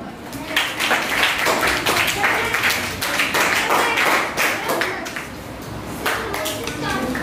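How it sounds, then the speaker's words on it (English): Classroom children clapping for a classmate at a chalkboard in a chemistry lesson, a steady patter of many small hands with kids' voices and chatter mixed in throughout. "Very good. Clap for her."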